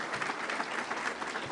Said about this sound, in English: Can you clap your hands for Garry McCarthy one more time, everybody?